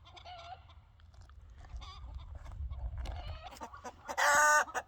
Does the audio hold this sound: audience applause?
no